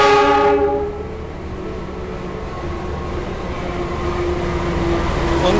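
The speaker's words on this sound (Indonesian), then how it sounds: "Itu dia Argo Lawu dari Solo menuju Gambir" The Argo Lawu executive train from Solo to Gambir, hauled by locomotive CC 206-1379, sounds a loud horn blast that fades into a steady rumble of rail cars rolling past close by.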